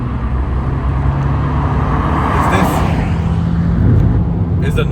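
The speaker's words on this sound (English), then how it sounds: "It's got a fantastic sounding exhaust on this, and honestly, it just adds to the whole experience." Abarth 595 Turismo 1.4 T-Jet car with an automatic gearbox, its exhaust rumbling steadily and loudly throughout, with road noise mixed in and a brief swell near the end.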